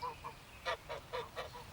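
Several geese honk in a quick series of nasal calls, moderately close, with a quiet background between them.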